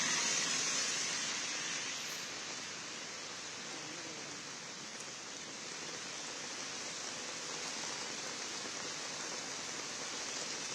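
Steady, even hiss of rain falling in Mumbai's suburbs, a constant wash of noise with no breaks, heard at low level and without any voices.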